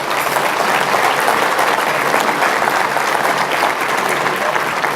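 A room full of people at an annual civic meeting gives elected officials, including aldermen, a steady round of applause. The clapping is dense and continuous for about five seconds with no break and no talk over it.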